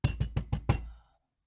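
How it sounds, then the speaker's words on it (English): Five quick, hurried knocks land on a door in an even burst, close and solid, then a short ringing decay into silence. "And there is a hurried knock at the door."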